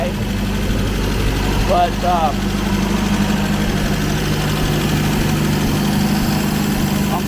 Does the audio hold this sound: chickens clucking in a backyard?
no